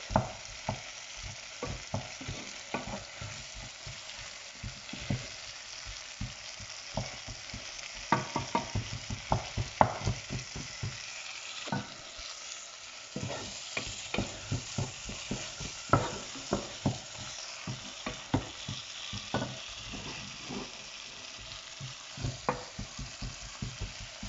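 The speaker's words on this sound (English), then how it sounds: "So let the tomatoes cook until it's a paste." Tomatoes cook down to a paste in a pan, with a steady soft sizzle broken by frequent sharp scrapes and taps of stirring, close and with no talk.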